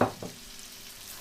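Chopped yellow and orange peppers drop into a hot frying pan, giving a sharp burst of sizzle that quickly settles into a soft, steady fry.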